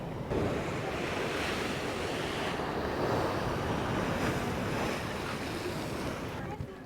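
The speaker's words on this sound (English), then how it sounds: "when it's gonna come right back and smack into those holes and create that big geyser type thing" Ocean surf rushing into and smashing against rock blowholes on the coast at Nuku Alofa, Tonga, a steady loud roar of churning water with wind buffeting the microphone throughout.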